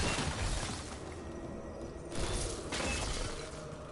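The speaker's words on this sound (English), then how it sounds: "I shatter literally everything I possibly can, which makes a lot of noise" Objects shatter in a video game, a steady wash of breaking and crumbling debris with two louder bursts of smashing partway through, fairly faint overall and with no talk.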